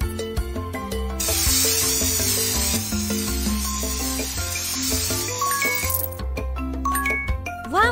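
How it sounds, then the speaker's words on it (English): Paint sprayed onto a toucan's beak in a jungle animal hair salon game: a steady hiss of spray runs for several seconds over bouncy, cheerful background music, followed by bright tinkling notes. "Now spray my beak with paint."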